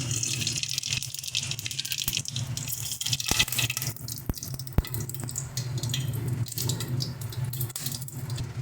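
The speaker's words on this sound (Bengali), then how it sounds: "তেল আমাদের গরম হয়ে গেছে, এবারে ফোড়ন দিয়ে দিচ্ছি এই যে জিরে," Cumin, bay leaf and dried chili sizzle in hot mustard oil, a continuous crackling hiss with scattered sharp pops and clinks throughout, close and moderately loud.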